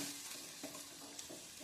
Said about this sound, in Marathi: आता हा मुळा थोडासा परतून घ्यायचा आहे